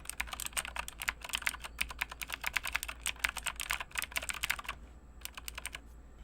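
Rapid clicky typing on a SteelSeries Apex 7 TKL tenkeyless mechanical keyboard with blue switches, a dense close run of sharp keystrokes that stops near the end, no voices.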